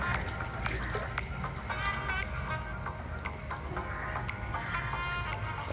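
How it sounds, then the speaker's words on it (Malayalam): Thin coconut milk poured slowly into a fish curry on a low flame and stirred, soft liquid pouring and sloshing with scattered clinks of a spoon against the pan, faint and close. "നമ്മൾ എടുത്ത് വെച്ചിട്ടുള്ള തേങ്ങാപ്പാൽ പതിയെ ഒഴിച്ച് മിക്സ് ചെയ്ത് കൊടുക്കണം"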